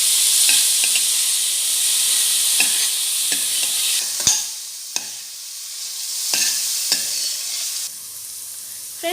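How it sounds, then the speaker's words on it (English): Finely chopped onion fries in a pan for South Indian upma, a bright steady sizzle broken by repeated sharp scrapes and taps of a spoon stirring against the pan, close and loud with no talking. "Cook them until it is translucent."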